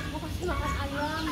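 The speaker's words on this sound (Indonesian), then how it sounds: "Ayam." Chickens cluck close by while an adult talks to a small child, the clucks partly mixed in with the speech during a short outdoor animal-feeding moment.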